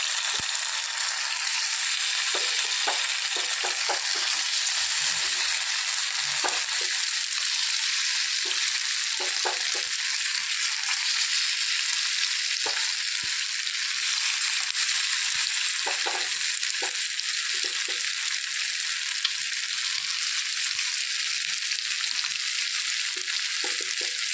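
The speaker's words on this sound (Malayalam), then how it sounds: "ഈ എടുത്തു വെച്ചിരിക്കുന്ന മസാല പുരട്ടി വെച്ചിരിക്കുന്ന മീൻ ഓരോന്ന് ഓരോന്ന് ഇതിനകത്തേക്ക് ഇട്ട് കൊടുക്കാം" Masala-coated pieces of snakehead fish fry in a pan with a loud, steady hiss and sizzle, with small taps and clinks of pieces being placed and moved throughout, close up and with no talk.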